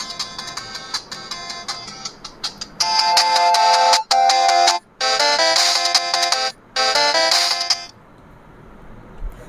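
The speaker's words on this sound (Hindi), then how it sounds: "इसमें जो गेम की आवाज़ होती है ऊपर नीचे कूदने की, तो मैं आपको फुल वॉल्यूम करके सुनाता हूँ।" Loud electronic game beeps from a Fire-Boltt smartwatch played at full volume, bright tonal jingles in several bursts separated by short gaps, alone with no talking.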